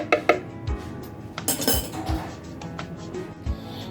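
A spoon clinks against a dish while red chilli garlic chutney is served out, giving sharp metallic taps and scrapes at irregular intervals with a few duller knocks, close and fairly loud with no talking.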